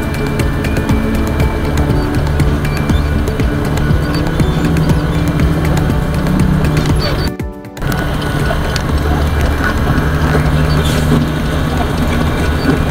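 An RTG gantry crane moving at a port pier during heavy rain, giving a loud, continuous mechanical whirring and rattling with a brief dropout partway through.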